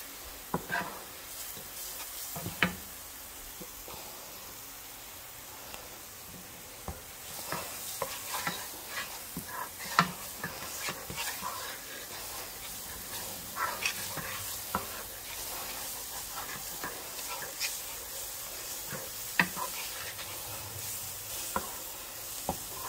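Garlic sizzles in olive oil in a pan, a continuous soft frying hiss dotted with frequent light clicks and scrapes from stirring, fairly close and with no voices.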